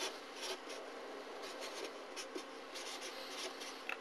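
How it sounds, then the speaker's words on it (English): A pen scratches across paper as a polynomial is written out by hand, steady close strokes in short bursts with brief pauses between terms, quiet and without talk. "So let's write the first one down."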